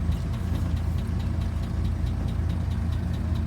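A pre-war truck engine runs steadily at low road speed in high range fourth gear, a continuous low rumble with faint rhythmic ticking, close and fairly loud, with no voices.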